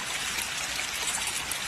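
Water flowing along the Chitti Bein rivulet, a soft steady trickling and babbling stream, fairly faint and unbroken, with no voices.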